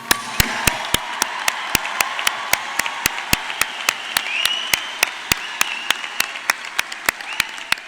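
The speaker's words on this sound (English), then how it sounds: "Let's have another round of applause for our graduates." A commencement audience applauds for the graduates in steady, sustained clapping, with a few sharp, close claps standing out in a regular rhythm over the crowd.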